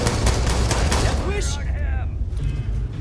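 Loud, rapid bursts of gunfire in the video game Starfield crackle at the start, then fade out as a voice takes over.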